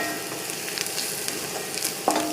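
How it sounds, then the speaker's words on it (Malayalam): Sliced ivy gourd and chopped green chili sautéing in a hot pan, giving a steady, close sizzle with a few soft stirring scrapes and a small clink near the end. "എന്നിട്ട് ഇത് നന്നായി ഒന്ന് ആ പച്ചമണം മാറുന്ന വരെ ഒന്ന് വഴറ്റാം"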